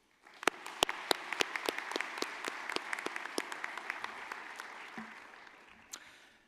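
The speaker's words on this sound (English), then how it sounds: "Please join me in a round of applause to thank our past division chairs for their service to ECS." Audience applause at an Electrochemical Society conference, opening with a few sharp, separate claps that quickly thicken into steady clapping from a sizeable room before tapering off.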